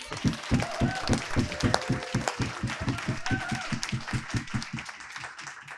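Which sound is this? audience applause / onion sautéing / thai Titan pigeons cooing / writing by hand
audience applause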